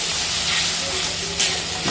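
Soybean chilli masala frying in a pan after water is added, with chilli powder, turmeric and salt: a steady loud sizzle and hiss of steam runs throughout, with a brief stirring scrape near the end.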